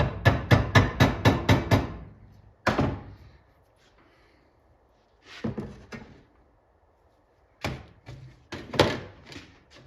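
Sharp metallic taps knock a burr flat on a metal arcade speaker grill: a fast run of about seven close hammer strikes, then scattered single and paired blows with quiet gaps between.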